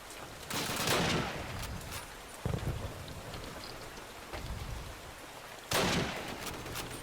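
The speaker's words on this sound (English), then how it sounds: "I'm just gonna shoot these last two shots" Gunfire in the Call of Duty United Offensive video game, several loud bursts of shots separated by quieter stretches of noisy ambient battle sound, with no voices.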